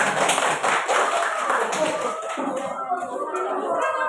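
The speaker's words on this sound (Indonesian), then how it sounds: "Tepuk tangan untuk temannya." A classroom of students clapping for a classmate after a presentation, steady dense clapping filling the whole stretch with voices mixed in.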